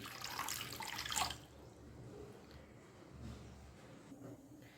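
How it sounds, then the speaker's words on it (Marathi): Water pours into a kadhai for fasting-day farali vade, a brief rushing splash at the start that trails off into quiet drips and faint room noise. "कढईमध्ये मी पाणी घालते"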